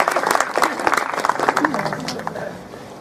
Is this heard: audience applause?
yes